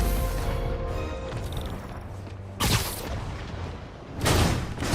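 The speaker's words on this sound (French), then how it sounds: "Les bombes font partie du plan de Fisk pour fuir." Bomb explosions in the Marvel's Spider-Man video game boom out twice, each a loud, sharp burst that rolls off, over a background of mechanical game noise.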